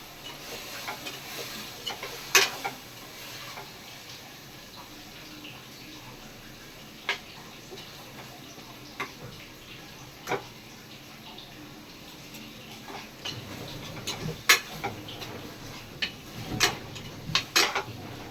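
Vegetables sautéing in a pan for a home-style vegetable biryani, with scattered clinks and scrapes of a spoon stirring against the metal, sparse and moderately close under a faint steady background hiss.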